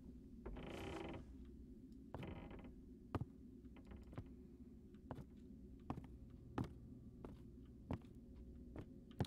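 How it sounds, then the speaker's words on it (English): Creaking and cracking inside a ghost hunting video game, a string of sharp isolated cracks and knocks at irregular intervals over a low hum, with a couple of longer groaning creaks early on, all fairly faint. "It's creaking and cracking going on."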